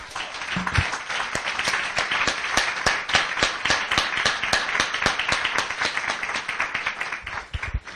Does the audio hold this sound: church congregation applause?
yes